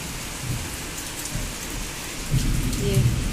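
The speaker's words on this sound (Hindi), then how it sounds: "बाहर बहुत तेज़ बारिश हो रही है" Heavy rain pouring down outside a home during a sudden downpour, a dense steady hiss throughout with faint low rumbles, growing slightly louder near the end, no voices.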